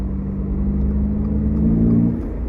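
A Toyota GR86 sports car accelerates on a freeway, a steady low engine drone and rumble that rises in pitch and swells slightly louder before easing off near the end, heard from inside the cabin with no talk.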